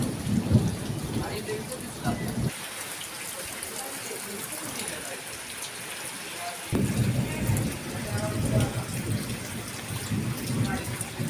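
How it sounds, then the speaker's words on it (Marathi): Sudden rain falls steadily on a village near Kolhapur while low thunder rumbles through it, and people talk over the downpour. "इकडे गावाला पाऊस पडायला लागला आहे अचानक पाऊस पडला आहे बघा ते गडगडते बघा"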